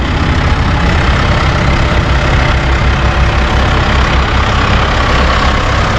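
A Massey Ferguson 2M.60 compact utility tractor engine idling close by, a loud, steady low rumble that holds evenly throughout with no voices.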